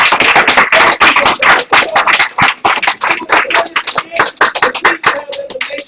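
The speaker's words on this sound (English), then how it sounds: "We want to give everyone, all our speakers, a round of applause" An audience at a debate and discussion event applauds its speakers, a dense run of hand claps that is loud and close, with a voice briefly speaking near the end.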